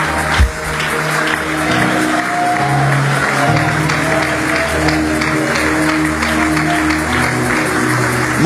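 An audience at a church blessing for a baby breaks into sustained applause and cheering, a dense crowd wash that holds steady and loud throughout.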